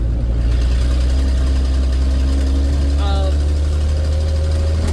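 A 1976 Ford F250 engine with a manual transmission hums steadily near at idle, then briefly revs up and settles back as gears are floated without the clutch; talk runs over the engine sound.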